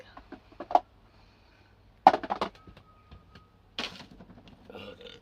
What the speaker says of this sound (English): Just burped.